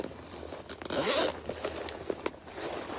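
Zipper being pulled on a large Chanel 19 handbag with gold hardware, a quick close-range rasping run followed by a few lighter clicks and scrapes from handling the bag.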